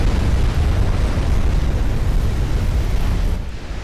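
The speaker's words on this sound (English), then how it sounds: "We got an explosion." A sustained, loud rumbling blast from a ship exploding in the naval battle game Ultimate Admiral: Dreadnoughts, a dense roar that holds for several seconds before easing off slightly at the end.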